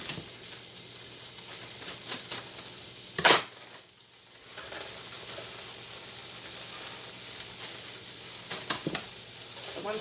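McCain potatoes fry in a pan with a steady, soft sizzle and crackle throughout, close by, broken by a sharp clatter near the start and a few lighter knocks later.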